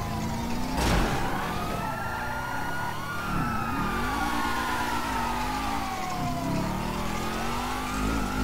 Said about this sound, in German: Drei Polizeiautos, nur!